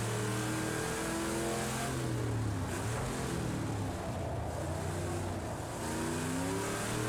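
A Chevrolet Camaro Z/28 V8 drones continuously in Project Cars 2, engine pitch sliding down and back up through gear changes and corners, loud and steady throughout with no talk.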